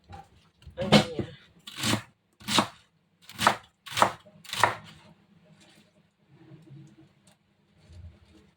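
Knife chopping ingredients on a cutting board for a simple sardine dish, six sharp, evenly spaced strikes close up, followed by quieter handling sounds.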